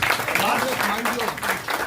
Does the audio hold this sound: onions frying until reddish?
no